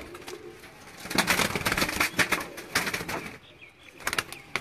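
Pigeons cooing close by, soft repeated throaty calls with some rustling and fluttering in between.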